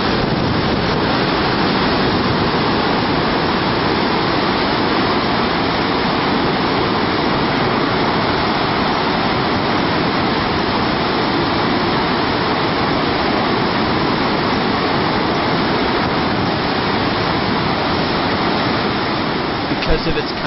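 Steady, roaring rush of Nevada Fall in Yosemite, loud and continuous throughout, with a broad hissing wash and no pauses.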